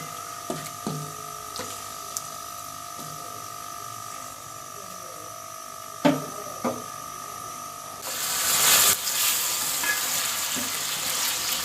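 Chicken frying in a pan with dark-browned garlic ginger paste for a pickled chicken curry, a steady low sizzle with a few sharp stirring clicks, swelling into louder, brighter frying in the last few seconds.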